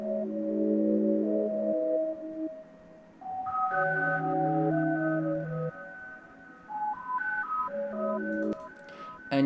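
A synth arpeggio plays stepped melodic notes through a half-note delay with high feedback, the repeats layering into a soft, ringing ambient pattern that rises in pitch midway, alone without talk.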